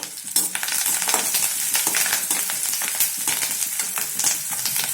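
Onions and curry leaves frying in a pan after mustard seeds pop, a dense steady sizzle with scraping stir strokes throughout, close and loud with no voices.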